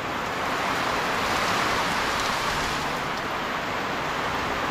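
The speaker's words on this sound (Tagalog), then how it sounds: "Grabe, bumuhos ang napakalakas na ulan." Heavy rain pours down steadily at night, a dense, constant roar of falling water with strong wind mixed in, loud and close throughout with no break.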